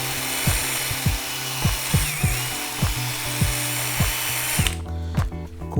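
A power drill fitted with a polishing pad runs steadily against a painted electric guitar body, its motor whine continuous with rhythmic pulses roughly every half second, then stopping abruptly near the end.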